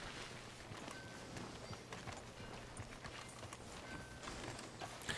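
Horse hooves clip-clop at a steady walking pace in Red Dead Redemption 2, a quiet, even rhythm of hoofbeats over faint background ambience.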